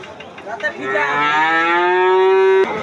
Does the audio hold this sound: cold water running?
no